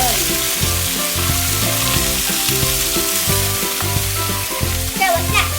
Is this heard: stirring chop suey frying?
yes